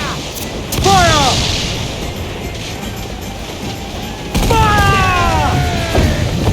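Cannons fire from a sailing ship in an Assassin's Creed Black Flag naval battle. Two heavy broadside blasts hit close and loud, each followed by whistling shot and a rumbling tail over a steady background of sea and wind.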